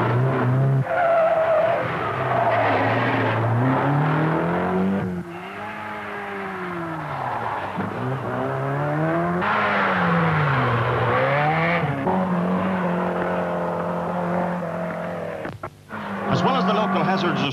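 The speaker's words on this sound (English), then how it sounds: "one day rally cars would roar by his quiet haven in Thorballylee" Rally cars race along a stage of the 1971 Galway International Rally, engines roaring and revving in rising and falling sweeps as they pass close by, with tyre noise between runs and one brief dip near the end.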